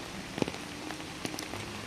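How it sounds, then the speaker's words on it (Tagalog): Heavy rain falls steadily on a surface outdoors, a dense, even patter with a few louder individual drops standing out, close and fairly quiet overall. "Kaso ulan na gid kayo."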